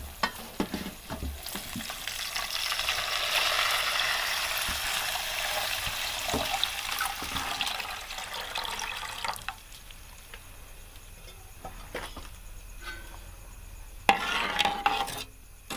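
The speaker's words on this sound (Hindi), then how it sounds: "अब मैं इसके अंदर शीरा डालूंगी।" Semolina fried in ghee sizzles steadily in a pan as sugar syrup goes in and is stirred. The frying noise is close and continuous, with liquid bubbling and occasional utensil scrapes, and it eases off in the second half.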